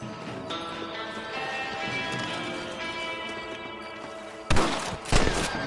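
Rifle gunfire in the Western video game Red Dead rings out as two loud sharp bursts near the end, following a stretch of ambient game sound with horses and birds.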